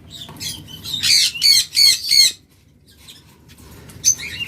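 A pair of lovebirds in a bird seller's stock squawks loudly in rapid shrill bursts for about a second, goes quiet, then gives another brief squawk near the end.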